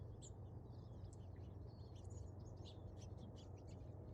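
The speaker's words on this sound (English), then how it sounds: "If you listen closely, you can actually hear the birds over the sound of the most intelligent species with their rat race, freeway noise pollution." Small birds chirp and tweet in short, scattered bursts from coyote brush, faint against a steady low rumble of distant freeway traffic.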